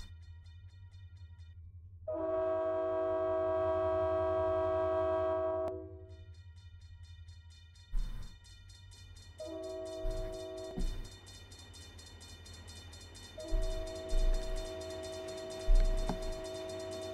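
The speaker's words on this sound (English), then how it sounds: "I hear a horn" A train horn sounds one long steady blast of a few seconds, then returns in shorter harsher bursts with rumbling low noise and thuds, heard at moderate distance outdoors.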